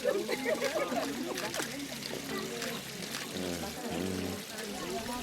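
Fresh water gushes steadily from the tap of a newly launched motorised village well system, a continuous splashing pour with voices talking over it throughout.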